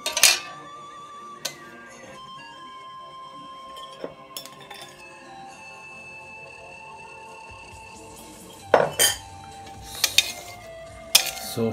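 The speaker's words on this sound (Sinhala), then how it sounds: "සෝස් එක හොඳට කලවම් කරගමු" A salad dressing stirred in a bowl for a jambola-style salad: scattered clinks and taps of a utensil against the bowl, with a few sharp louder knocks near the end and quiet gaps between.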